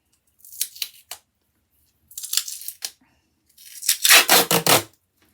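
Strips of duct tape torn from the roll for a large book spine, three separate bursts of close, sharp ripping, the last one longest and loudest, with quiet gaps between.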